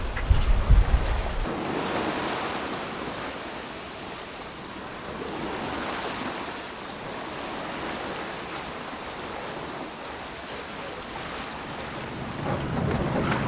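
Steady wind of about 11 to 13 knots rushing over the microphone on a sailboat moving at over 6 knots, waves washing against the hull, a continuous broad roar with gentle swells in intensity, no voices.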